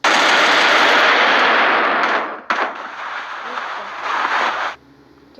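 Rapid automatic gunfire from an SVD rifle in a video game, a dense loud burst of shots for about two seconds, then a brief gap and a second, less intense stretch of firing before it stops.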